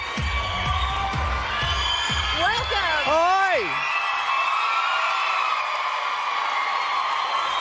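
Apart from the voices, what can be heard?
crowd cheering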